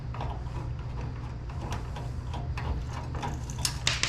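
Screws holding a transformer inside a scrapped microwave are worked loose during a teardown, giving a run of small ratcheting clicks and ticks over a steady low hum, close by, with no talk.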